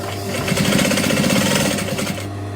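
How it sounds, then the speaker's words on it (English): Sewing machine back tacking stitches on a garment seam, a loud steady mechanical whir with rapid needle chatter for about two seconds before slowing, no speech. "I'm going to back tack, so I need to make sure that I catch all those stitches in."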